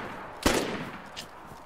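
A single sharp gunshot in the DayZ video game cracks out and trails into a short echoing decay, with a fainter second report about a second later.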